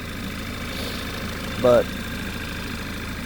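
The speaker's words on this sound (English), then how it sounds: "Just gonna let it sit here idling, so it'll suck up all the antifreeze that needs." A 2013 Audi A4 Quattro 2.0T engine idling steadily after a timing chain replacement, an even low rumble throughout with a brief spoken word partway through.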